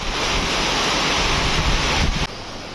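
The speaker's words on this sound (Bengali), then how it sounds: "এত হাওয়া, ওই দেখ, ওয়েদার 1 সেকেন্ডের মধ্যে মৌসুম চেঞ্জ" Strong wind blows outdoors during a sudden change in the weather, a steady, loud broadband roar that fills the whole stretch and dips briefly near the end, with no voices.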